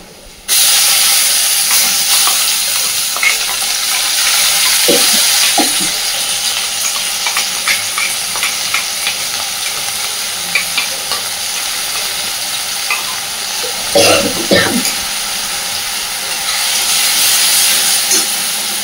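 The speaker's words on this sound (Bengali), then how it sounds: "এইবার এই পর্যায়ে আমি দিয়ে দিচ্ছি টমেটো, ধনেপাতা, কাঁচা লঙ্কা, রসুনের পেস্ট।" Tomato, coriander, green chilli and garlic paste frying in a pan, a loud steady sizzle and hiss with scattered spoon scrapes and clinks, heavier stirring clatter in the middle, close up with no talk.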